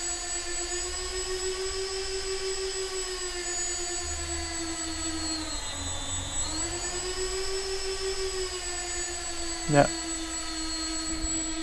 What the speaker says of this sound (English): All motors are working.